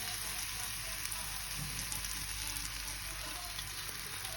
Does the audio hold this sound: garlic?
yes